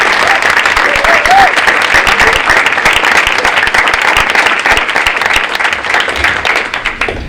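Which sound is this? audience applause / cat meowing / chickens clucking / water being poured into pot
audience applause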